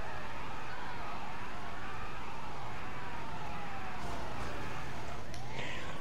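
In GTA 5 Online, an ambulance siren wails steadily under loud engine and street noise, a continuous rising and falling tone at close range.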